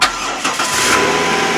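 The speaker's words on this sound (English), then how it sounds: "Okay, I'm going to start up the van." A van engine cranks and catches, then settles into a steady, loud idle close by with no voices.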